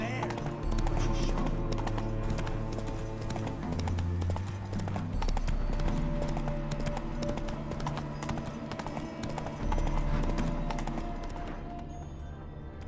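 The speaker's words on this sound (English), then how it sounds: "Heavily laden horse" Horse hooves clip-clop steadily beneath a continuous layer of music, the gait of a heavily laden horse in The Witcher 3 video game, loud and close.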